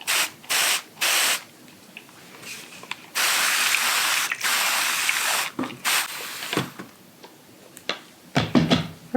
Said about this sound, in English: So you just pump this top, and it's got a little spray button, and it comes out like a little mist.